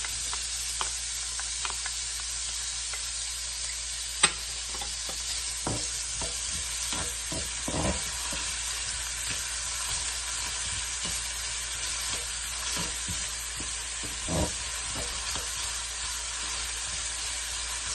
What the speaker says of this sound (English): I'll add in my onions.